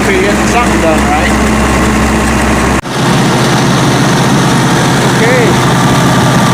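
Massey Ferguson 300 combine engine running steadily just after starting, a loud continuous low rumble with a brief dip partway through, then carrying on evenly.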